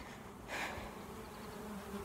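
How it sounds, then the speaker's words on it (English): Honey bees from a captured swarm hum and buzz faintly inside a box, with one brief louder buzz passing close by against a low background drone. "There's still quite a few bees inside this box."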